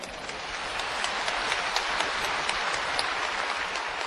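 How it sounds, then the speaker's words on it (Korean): Faint, steady applause from a church congregation during a New Year sermon, a soft even wash of clapping with no voices over it. "지금은 여러분 박수를 치지만"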